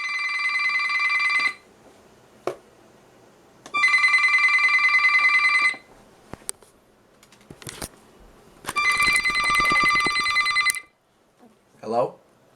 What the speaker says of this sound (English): the siren on this radio sounds like a telephone